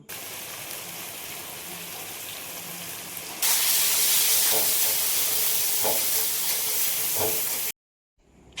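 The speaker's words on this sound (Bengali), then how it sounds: "সব মশলাগুলো দিয়ে এবার ভালো করে কষে নিতে হবে" Ground spices with chopped tomato and green chilli fry in a pan. A steady close sizzle turns louder and hissier partway through, with faint stirring scrapes, before cutting to silence.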